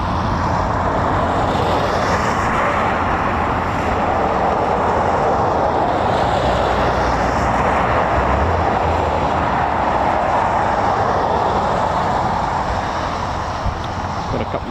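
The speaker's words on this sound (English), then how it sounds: "Typhoons just coming into land as well in that filthy weather." Eurofighter Typhoon FGR4 jets coming in to land at RAF Coningsby in foul weather, a steady loud broadband roar that swells and holds throughout without a break.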